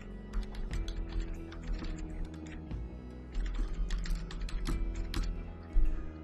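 Rapid keystrokes on a computer keyboard while an email address is entered, steady irregular clicking in two bursts separated by a brief pause, close and clear with no talking.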